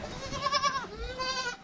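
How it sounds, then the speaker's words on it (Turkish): Mountain goat on a village hillside bleating twice, each call long, wavering and nasal, close and fairly loud with no talk over it. "Tam dağ keçisi bu."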